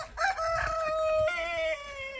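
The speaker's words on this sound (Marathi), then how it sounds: "हे एक कोंबडा आपला जरा डेंजर असल्यामुळे ह्याला सेपरेटच ठेवतोय आपण" A rooster on a farm crows once, a fairly close, drawn-out cock-a-doodle-doo with a faint cluck at the start and low ambient noise behind it.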